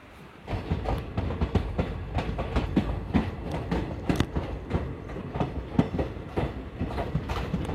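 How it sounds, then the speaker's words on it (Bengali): Gour Express (13154, Malda to Sealdah) pulling out of New Farakka station, a steady rhythmic clickety-clack of wheels over rail joints with rumbling carriages, loud and close throughout with no talk. "ট্রেন ছেড়ে দিল নিউ ফারাক্কা থেকে।"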